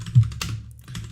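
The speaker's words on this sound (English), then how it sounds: "So just type in Python download" Keystrokes on a computer keyboard as a Python download command is typed, a short burst of close, light clicks.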